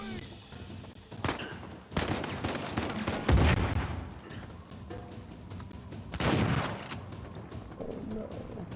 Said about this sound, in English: just shoot him and hope that nothing hits Sam